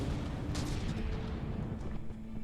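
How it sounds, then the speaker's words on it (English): A turret explodes in a video game boss battle between Poir-T and Gradius, heard as a dense, continuous rumble of booms and blasts that stays loud throughout, with no voices over it. "That was an explosion that just happened."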